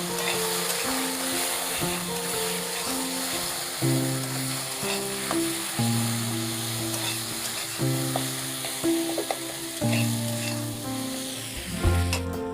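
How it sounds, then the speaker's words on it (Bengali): Spice paste of ground cumin, garlic and dried chili with coriander and cumin powder fries in a pan with a steady, close sizzle that runs the whole time beneath a melodic background tune. "মশলাটা আমি ভালো করে কষিয়ে নেব"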